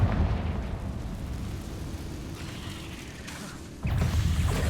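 Confringo fire spell from the video game Hogwarts Legacy goes off as a sustained rumbling blast, a deep roar that thins out and then swells into a fresh loud burst near the end, with no voices.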